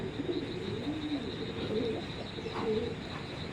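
Racer pigeons cooing softly and repeatedly at close range, low throaty calls over a faint background hum, with no talking.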